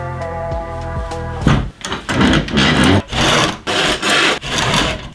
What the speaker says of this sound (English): A lot of time was saved going straight for the historic handsaw and avoiding confrontation with the jigsaw.